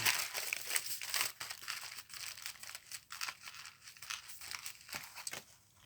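Paper is cut and handled up close for a junk journal, giving steady crisp crinkling and snipping with irregular rhythm and no talking.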